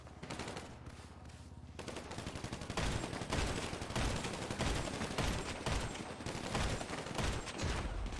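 Gunfire in GTA V roleplay on NoPixel, rapid bursts of automatic shots followed by dense, sustained volleys of loud cracking fire that keep going without pause.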